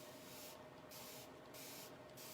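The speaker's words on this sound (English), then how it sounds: "my Fine Mist sprayer, and I'm going to spray this" Short bursts from a fine mist sprayer misting paint onto furniture hardware, three quick hissing puffs in a steady rhythm over a constant low background hum.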